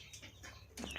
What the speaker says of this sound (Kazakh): Брудерда тұрған балапандар.